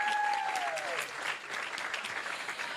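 Applause from the crowd at a TPL Melbourne bowling decider final, a steady dense clapping that carries evenly through the whole stretch at moderate distance, with a faint whistle at the start.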